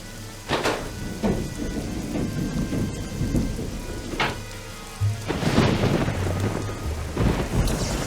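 Lightning storm in the Nancy Drew game Legend of the Crystal Skull: steady heavy rain with several deep rolling thunder cracks, some close and loud, breaking through at intervals.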